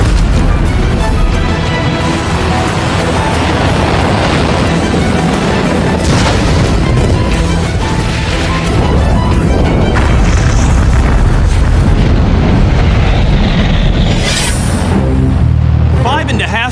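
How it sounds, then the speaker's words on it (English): A Juno four-stage rocket carrying the Explorer S-1 satellite lifts off, pitches over and is destroyed on command, a long, loud, dense booming roar that stays heavy throughout, with voices likely present beneath it. "Seconds after liftoff, the rocket pitches over, and the range safety officer issues a command to self-destruct."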